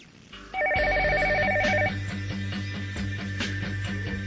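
A telephone rings with a sharp electronic trill that breaks off partway through, over steady rhythmic background music, and no one speaks.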